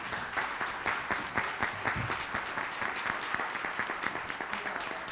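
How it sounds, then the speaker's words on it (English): Applause from a debate audience for the candidates, moderately faint, a continuous patter of clapping lasting several seconds. "Could we please give all of the candidates a round of applause?"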